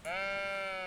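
A single sheep in the cozy building game Tiny Glade gives one short, clear, tonal bleat that sounds close and stands alone against a quiet background.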